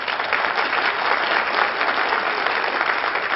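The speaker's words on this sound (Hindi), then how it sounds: "तो ताली बजाइए अपने लिए।" An audience at a meditation guru's birthday celebration in Delhi claps steadily, with dense, continuous applause at an even, fairly loud level and no voices over it.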